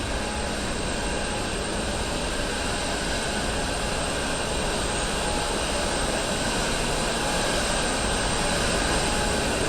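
Pressure cookers in a whiskey distillery mash house give a loud, continuous roar with a steady hum and no letup, filling the space close at hand.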